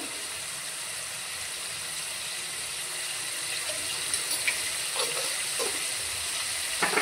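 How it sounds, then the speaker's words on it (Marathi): Bombay duck fish fried in oil with turmeric and a little salt, giving a steady, close hiss of sizzling with faint crackles and small pops toward the end; no one speaks. "तेलात फ्राय करून घेते मी, हळद आणि मीठ घालून।"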